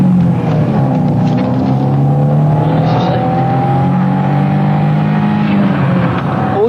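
Engine of a car running from a police pursuit in the UK: a loud, steady droning rumble with a sustained engine tone that rises slightly, heard close without talk.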